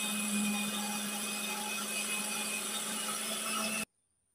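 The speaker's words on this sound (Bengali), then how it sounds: "এইভাবে সবটা ভিজে নেওয়া চাল আর ডাল মিক্সির জারে দিয়ে পেস্ট করে নিয়ে ঢেলে নেব।" A kitchen mixer grinder blends soaked rice and lentils into a paste, giving a steady, loud motorized whir with a high whine that runs unbroken and then cuts off abruptly, leaving silence.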